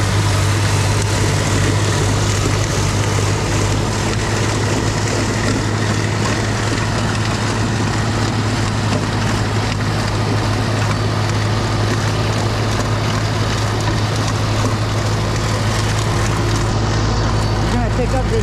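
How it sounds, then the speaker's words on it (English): Strong wind roars steadily during a big snow storm, a loud, unbroken rumble close to the microphone. "All the snow is flying back into my face because of the wind"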